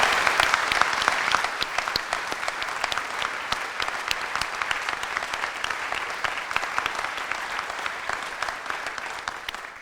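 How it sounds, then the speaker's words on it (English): Steady applause from a memorial service audience for a jazz ensemble, dense overlapping claps filling the room at moderate volume and holding evenly for about ten seconds, with no talking over it. "can we please have one more round of applause for the jazz ensemble that just played"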